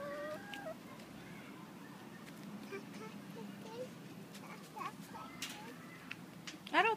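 Chickens cluck softly and intermittently in a farm setting, with a louder squawk near the end, under quiet background chatter from people nearby.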